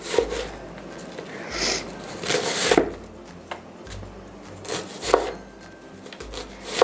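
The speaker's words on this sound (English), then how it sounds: "I'm just cutting up all these onions now" A knife chops onions on a board in a home kitchen, irregular close thuds and taps in short bursts with quieter pauses between.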